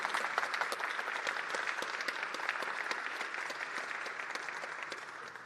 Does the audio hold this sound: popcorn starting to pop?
no